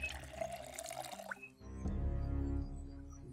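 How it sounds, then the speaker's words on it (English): Water pours into a bowl in the Project Zomboid video game as a short burst of running, splashing liquid. A rising filling tone and a few drip-like clicks follow, with no speech. "Fill the bowl with water."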